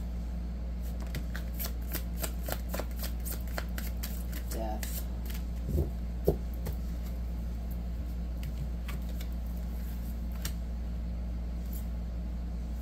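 Tarot cards are shuffled by hand during a card reading, a rapid run of crisp riffling flicks and soft slaps repeating through most of the stretch over a steady low hum.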